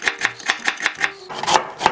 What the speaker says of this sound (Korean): 무는 채를 썰어주세요.